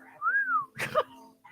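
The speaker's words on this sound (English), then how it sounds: "Did you really whistle like that?" A single close, rising-then-falling wolf-whistle-like tone from a person whistling, followed by a brief burst of noise and a short voice sound.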